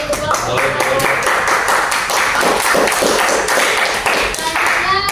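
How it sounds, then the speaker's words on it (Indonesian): A school classroom claps for a student group after a practical exam presentation, a few seconds of loud, rhythmic clapping in a roughly steady beat from a nearby group. "Tepuk tangan dulu untuk kelompok 4."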